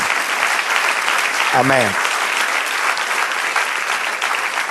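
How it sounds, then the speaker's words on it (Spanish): A church congregation applauds the Lord with steady, full clapping throughout, while a voice briefly speaks over it. "Dale un aplauso al Señor."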